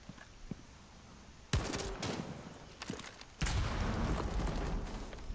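Breach charge blowing a wall in Rainbow Six Siege on the Club House map, two loud broadband blasts a couple of seconds apart followed by crackling debris and gunfire-like bursts, no talk.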